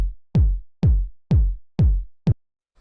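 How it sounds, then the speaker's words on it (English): A punchy, hard-hitting 909-style kick drum sample for deep house thumps five times at an even pace, each hit booming and decaying quickly, followed by a short clipped sixth hit, alone and loud. "hard-hitting, punchy 909 style kick like this one"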